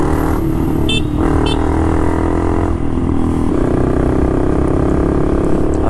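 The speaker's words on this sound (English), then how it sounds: "I really wonder how good you can hear the bike or not." Honda Grom motorcycle ridden through New York City streets, heard from a mic inside the rider's helmet: a steady loud engine drone with shifting pitch as the bike accelerates, under constant wind rumble.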